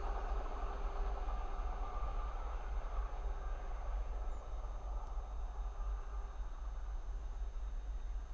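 A Class 66 diesel locomotive, number 66541, passing on the West Coast Main Line at Linslade, a steady heavy rumble and rolling noise that holds constant throughout, with no voices.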